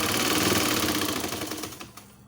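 A sewing machine stitches a seam on a baby's nightie, a fast mechanical whirring chatter that runs steadily, then slows and stops near the end, heard close and alone.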